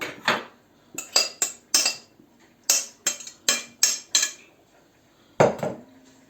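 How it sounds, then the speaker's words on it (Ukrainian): Carrots tumble into a metal pot in sharp clattering bursts, several quick hits in a row, then a pause and one last clatter. "Беремо каструлю, висипаємо туди моркву"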